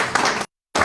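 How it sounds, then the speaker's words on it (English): A round of applause at a press briefing, a burst of clapping that breaks off briefly and then resumes, close and fairly loud. "A round of applause for Mr. Kwame Alumni."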